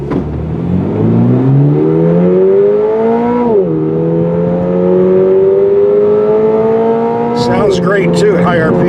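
A 2022 Toyota GR86 engine revs hard to high RPM, its loud, climbing tone dipping briefly at a shift midway before rising steadily again, with a few sharp chirps near the end.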